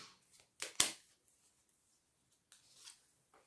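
Tarot cards handled and laid out on a table: a couple of soft, sharp card slaps and flicks, one fairly loud, with brief rustles in between and quiet gaps; no talking.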